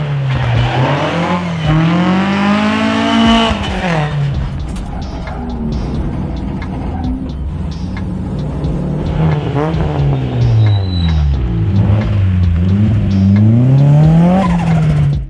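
A race car at a lakeside hillclimb screams flat out, engine revving hard through repeated gear changes as it rises and falls in pitch, with tyre squeal mixed in, loud and close and without talk.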